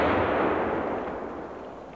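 A single loud gunshot at a shooting session, a sharp close blast that rolls into a decaying echo and fades over about two seconds.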